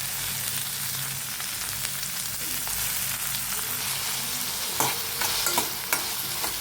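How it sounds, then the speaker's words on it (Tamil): Onions sauté in a pan for a garlic pepper fish curry, giving a loud, continuous sizzle and crackle. Tomato is added near the end, bringing a few sharp stirring scrapes and knocks. "வெங்காயம் நல்லா வதங்கிடுச்சு. இப்போ தக்காளி சேர்த்துக்கலாம்."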